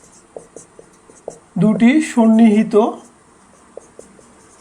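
Faint tapping and scratching of handwriting on a board during a geometry lesson on angles, a few light ticks before and after a man's spoken explanation.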